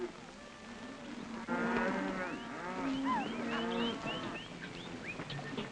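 Several cattle moo in overlapping, drawn-out calls at moderate distance, with faint bird chirps scattered over a low outdoor rumble.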